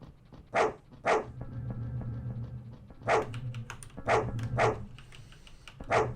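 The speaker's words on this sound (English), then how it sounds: "Whose fucking dog is barking?" A dog barking in the dark horror game Fear & Hunger, a series of single loud barks spaced about a second apart, coming in small clusters over a low droning ambient bed.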